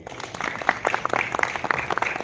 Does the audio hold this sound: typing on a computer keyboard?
no